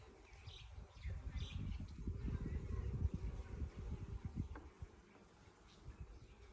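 Honey bees hum steadily at brood frames opened from a beehive, a dense low drone that swells and holds close by before easing slightly toward the end.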